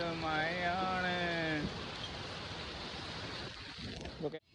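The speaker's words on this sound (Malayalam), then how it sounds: "ഇക്ക വൈദൂരം മഴയാണ് ഇവിടെ ഫുള്ള്" A voice briefly speaks over a constant wash of rain, which then continues alone as a steady, dense patter.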